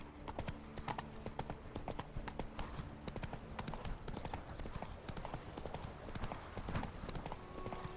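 Roach, the horse from The Witcher 3: Blood and Wine, gallops at a brisk rhythm of clip-clopping hooves that stays steady throughout, faint and close, with a brief voice under it.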